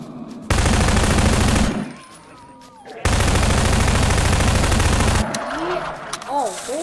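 SMG and pistol gunfire in the Garry's Mod sandbox game, loud sustained automatic bursts, a long burst, a short pause, then another long burst, with chirping game sounds and a voice near the end.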